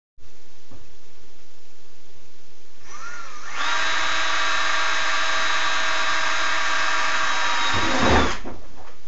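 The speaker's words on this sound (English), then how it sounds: "This pilot tip works very well in keeping the drill bit from walking around on the kayak and gives you a very straight hole." A power drill bores a hole through a plastic kayak hull, fitted with a pilot-tip bit, for a flush-mount rod holder: a steady, loud high-pitched whine runs for several seconds close by, then cuts off abruptly, with no talking.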